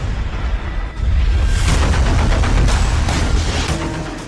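Missile interceptions exploding in the sky over Israel during an Iranian missile barrage: a continuous loud roar of rumbling blasts and crackling bursts swelling after a moment and holding steady to the end.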